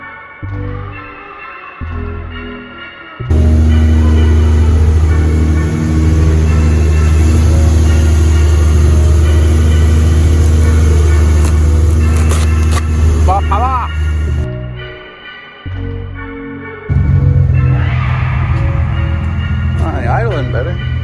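A BMW E36's engine idles close by in a low, steady hum that drops out twice for a few seconds before returning, with no voices over it.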